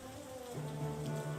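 Steady rain falls in Banner of the Maid, a strategy game set in revolutionary France, a continuous hiss under tonal game music.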